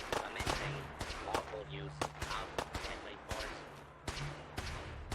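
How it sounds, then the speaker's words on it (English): Gunfire in the Fallout 4 video game: sharp, sparse shots cracking at irregular intervals, fairly distant and moderately quiet, mixed with game speech and background ambience. "I'll have to see what all the shooting is about"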